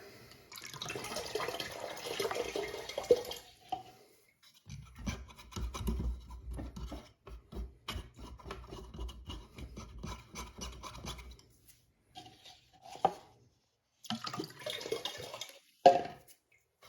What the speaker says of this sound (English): see if this will flush down.